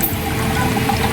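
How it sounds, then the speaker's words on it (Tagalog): Coconut milk runs from pressed copra in a pressing machine as a steady, close, continuous watery trickle with no voices. "And tumutulo na ang gata niya."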